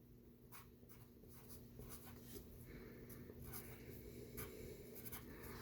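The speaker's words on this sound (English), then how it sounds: "Let's go ahead and write this number over here to the side." Pen strokes scratch across paper as a number is written by hand, a quiet series of short rhythmic scrapes and taps, close and faint over a low steady hum.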